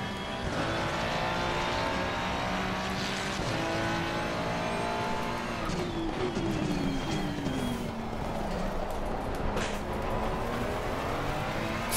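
Ferrari 296 race car in a racing video game at Spa, engine note wavering and stuttering as traction control cuts in on corner exit, loud and continuous with rising and falling pitch sweeps throughout.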